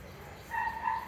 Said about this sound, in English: I'm distracted by another dog right now.